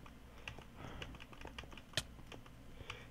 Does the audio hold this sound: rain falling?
no